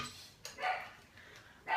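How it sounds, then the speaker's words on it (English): A pet dog barks at his own reflection indoors, three short yips and barks spaced across the moment, moderately close and fairly quiet, with no talking over them. "my dog barking at his reflection right now"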